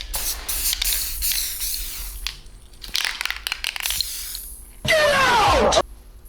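A can of Krylon fluorescent pink spray paint sprays in a loud, steady burst of about a second near the end, after earlier short hissy bursts and scattered background noise.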